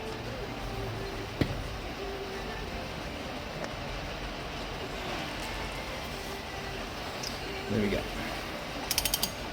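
A wrench loosens the front axle on a 2021 BMW S1000RR, with a sharp crack as the axle breaks free. A brief burst of quick ratcheting clicks follows near the end over steady workshop hum, and a voice speaks briefly.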